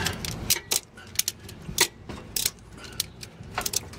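Metal ratchet clicks and tool clatter while a bolt is cranked down on the engine of a 2007 Honda CR-V under head gasket and valve clearance repair, close, irregular ticking strokes with short pauses.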